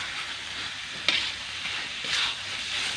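Shredded chicken cooks in a red spice paste in a pan, giving a constant soft sizzle broken by two brief scraping stirs. No one talks over the cooking.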